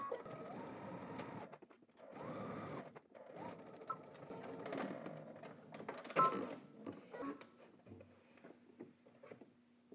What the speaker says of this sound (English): starting on one side, we're going to back stitch at the beginning and then also at the end using 3/8 of an inch seam allowance